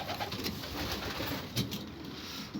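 Soft, low pigeon coos murmur repeatedly over a steady background hiss, fairly faint and unhurried.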